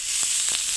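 Onions hit hot oil in a pan over a village wood-fired clay stove and give a steady bright sizzle, with a few soft crackles and pops through a short stretch.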